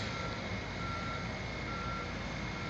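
A truck delivering concrete into a pump at a construction site in Los Angeles, with a steady mechanical drone and reversing beeps sounding over continuous low-end rumble.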